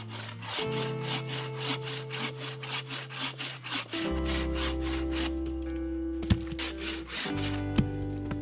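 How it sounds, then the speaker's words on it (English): Hand saw cutting softwood firewood at a bushcraft camp, a steady back-and-forth rasping rhythm of strokes, close and loud, with a brief pause and a few knocks as the cut changes, no talking. "I've only got a little bit of firewood, so I'm going to cut some firewood."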